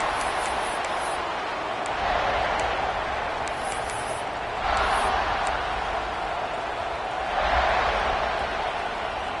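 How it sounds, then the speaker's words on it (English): Football stadium crowd roaring continuously throughout, swelling in waves of louder cheering, with a broadcast commentator's voice faintly under the din. "listen to this crowd coming through"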